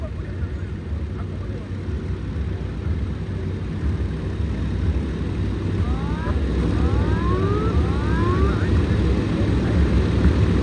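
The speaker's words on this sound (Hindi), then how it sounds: "भारतीय तटरक्षक का डोनियर विमान जो लो फ्लाई पास करके मंच को सलामी दे रहा था" An Indian Coast Guard Dornier aircraft engine drones steadily, building louder toward the end as it makes a low fly-past overhead at a beach demonstration, with voices and crowd noise underneath.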